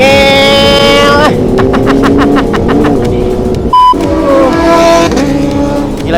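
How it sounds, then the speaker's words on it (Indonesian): Kawasaki ZX10R and ZX25R motorcycles racing through a corner, high-revving engines screaming loud and close, with a rising whine that drops off as they pass, a short tonal blip, then engines surging again. "Bloriski ZX10R menikung dengan ZX25R."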